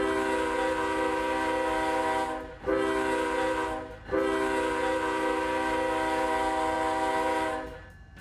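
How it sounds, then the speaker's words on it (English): KCS ET44AC locomotive horn in the Roblox game Ro-Scale Southline District, three loud sustained chime blasts with brief gaps between them, the last fading out. "This is the KCS ET44AC."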